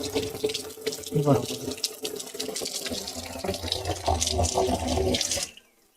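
Water gushing steadily from a motor-fed pipe on a farm, a continuous close splashing flow that cuts off abruptly near the end.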